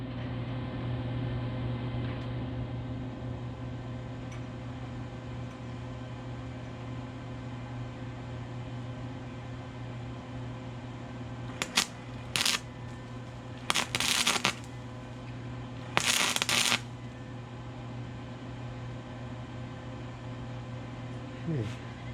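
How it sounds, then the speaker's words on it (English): A steel frame for a gold ore shaker table is welded in several short crackling bursts, each lasting about a second, over a constant low electrical hum. "Let's weld it."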